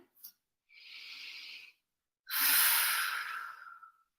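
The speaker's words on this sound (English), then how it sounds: "Deep breaths into the belly." Deep, slow breathing during a morning yoga class: a short sniff, then a long steady exhale, a pause, and a louder, fuller breath lasting well over a second, close and clear with no talking.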